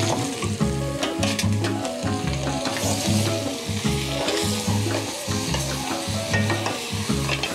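Olive oil sizzling and frying in a soup pot for Swiss chard soup, with stirring scrapes over a steady, close crackle that holds level throughout.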